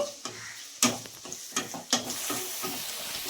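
Onions sizzle in hot oil in a pan while making fenugreek leaf chicken curry, crackling and hissing close by, with several sharp scraping stirs of a spatula.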